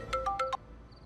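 A mobile phone's ringtone for an incoming call plays four quick, bright electronic notes in a short melodic run, fairly faint, then cuts off into near silence.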